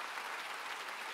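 An audience at a church rally in a gymnastics arena applauds, a brief, steady, distant wash of many hands clapping.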